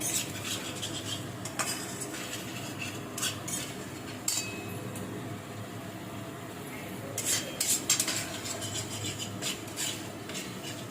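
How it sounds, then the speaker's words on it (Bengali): Spice paste is stirred and fried in a pan for a pointed gourd dolma dish, a quiet sizzle under repeated scraping and clinking of a utensil against the pan. "মশলাটা ভালো করে কষবো।"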